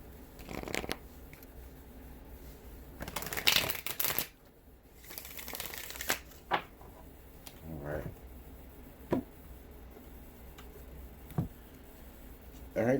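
Several bursts of tarot cards being riffled and shuffled, crisp papery rustles with pauses between, up close with faint background noise.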